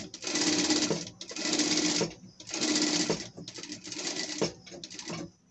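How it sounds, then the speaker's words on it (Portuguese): A sewing machine stitches fabric for a pet dress in several close bursts of rapid whirring, separated by short pauses. "Vamos arrematar no começo e depois a gente só passa a costura."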